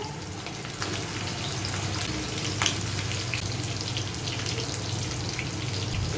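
Shami kofta patties sizzle in hot oil with a steady, close crackling hiss, interrupted now and then by brief louder pops and spits.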